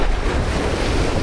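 Ocean waves crash and splash against a harbor breakwater at Playa Unión during fishing, a loud, dense wash of surf mixed with strong wind buffeting the microphone.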